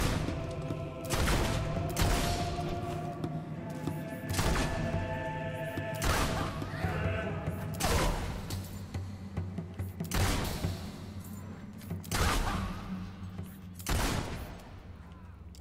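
Gunfire from the video game Fable II, with repeated sharp shots spread across the scene over a steady bed of game noise and battle ambience, fairly loud and without voices.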